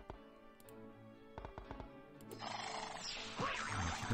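A synthesized horse neigh rings out from the Lucky Chess Mate slot machine game, set among bright chiming win jingles and clattering electronic effects that build louder toward the end.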